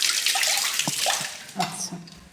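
Vegetables for a cauliflower curry being rinsed in water, a close splashing and running-water wash with a few drips and light knocks over about two seconds, no talking.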